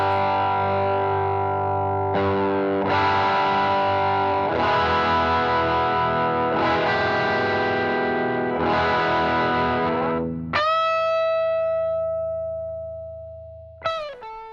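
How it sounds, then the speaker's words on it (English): A Gibson Custom Murphy Lab electric guitar played with heavy distortion, strummed chords ringing out in several phrases, ending with sustained notes fading away. "I want you to play this because I've been dying to hear this guitar"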